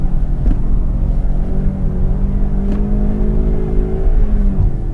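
A car pulls off the start line into an autocross slalom, with a loud, steady engine drone and rising whine that holds through the whole stretch, heard from inside the car.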